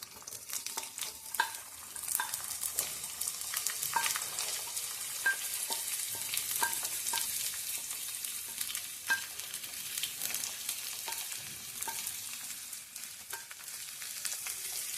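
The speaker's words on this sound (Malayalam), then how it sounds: "തീ ഹൈയിൽ വെച്ചിട്ട് 1 മിനിറ്റ് നന്നായിട്ടൊന്ന് സോട്ടേ ചെയ്തെടുക്കാം." Chopped onion, curry leaves and a broken dried chili sauté over high heat in a pan, making a soft, even sizzle broken by frequent light stirring scrapes throughout.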